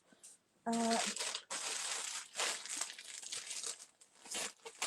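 Paper being creased into a simple Z fold with a bone folder, giving close crinkling and rustling scrapes over several seconds, with a brief tonal hum near the start.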